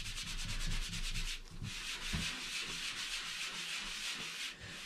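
A sanding sponge rubbed in circular strokes along a drywall joint edge, a steady close scratchy rasp with a rhythmic back-and-forth pulse, heard alone.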